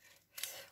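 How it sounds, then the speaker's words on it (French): Scissors snip paper for an art journal card, a quiet, quick single cut with a brief crisp rasp, heard alone. "Je vais prendre mes ciseaux pour couper."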